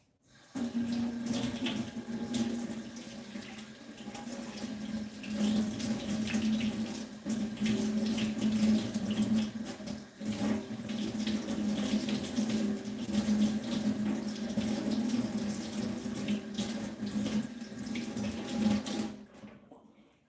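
A kitchen tap runs steadily for washing, a loud continuous close-up gush of water that barely changes from start to finish, with no voices.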